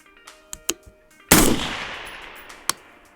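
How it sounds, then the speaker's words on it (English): A single loud rifle shot fired at a steel target 200 yards out, with a sharp crack and a long decaying echo, preceded by a few small handling clicks and followed by a faint distant ping. "Try a shot."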